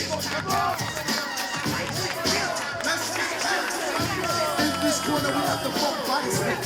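A crowd, including a wrestling locker room, cheers at a barbed wire death match for a heavyweight championship, a steady roar of voices and shouts filling the whole stretch.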